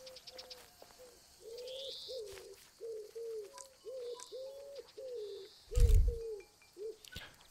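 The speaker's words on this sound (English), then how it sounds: "wow pigeon" Repeated soft cooing from a pigeon in the wildlife game Alba: A Wildlife Adventure, a steady run of about a dozen evenly spaced coos over light birdsong chirps, with a brief loud low thump near the end.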